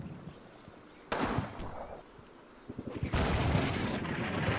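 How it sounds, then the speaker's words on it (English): Artillery fire in the Combat Mission war game: a quieter stretch gives way to two loud, broad booming bursts with rumbling tails, the second one sustained to the end. "Okay, American artillery fire."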